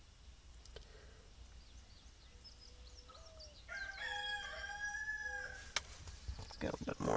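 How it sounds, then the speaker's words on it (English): A rooster crows once from some distance, a drawn-out call that rises and falls over quiet outdoor background, with faint talk nearby and a few sharp knocks afterward. "He's over there crowing."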